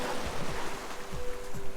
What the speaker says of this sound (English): Hearing the sound, the sea, you get a sequence,